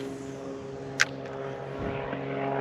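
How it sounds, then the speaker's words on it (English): A propeller airplane climbs away after takeoff over a lake during canoe fishing. It gives a steady, distant droning hum throughout, with a single sharp click near the start and wind-like rustle swelling toward the end. "there's the airplane that just took off."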